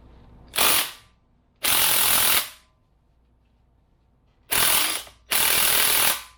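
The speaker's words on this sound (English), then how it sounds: "Let's hit it with the impact and see what happens." Impact wrench loosening a strut nut on a Honda fires in four loud, close bursts of rapid hammering, each about a second long, separated by quiet pauses.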